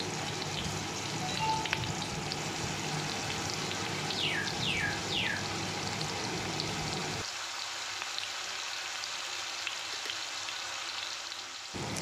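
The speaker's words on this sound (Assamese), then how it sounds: "আৰু এই পিঁয়াজখিনি ভালকৈ ভাজি ল'ম।" Sliced onions frying in a pan for an Assamese colocasia dish, a continuous hissing sizzle at moderate level; partway through the sound drops to a quieter, thinner crackle that carries on to the end.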